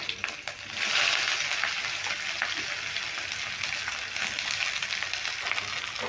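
Cumin, bay leaf, green chilli and chopped onion frying in hot oil give a steady, dense sizzle with crackling spits throughout, close and fairly loud, with no voices.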